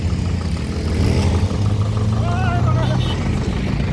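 Two motorbikes ride at night on the return from a picnic in Khotang, their engines a steady droning hum close by, with voices talking over them.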